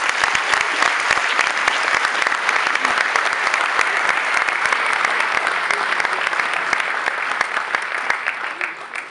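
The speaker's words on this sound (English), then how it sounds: "we have a massive round of applause for Mr." A large audience at the inaugural night of the Amir Khan Foundation bursts into a sustained round of applause, dense and steady clapping that stays loud for the whole stretch without any speech on top.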